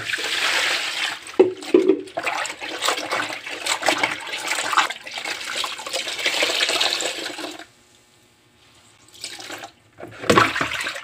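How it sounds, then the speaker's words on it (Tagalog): Tie-dyed t-shirt being rinsed in water, with continuous splashing and sloshing for about seven seconds, a brief quiet pause, then a final burst of splashing near the end. "Banlawan po natin."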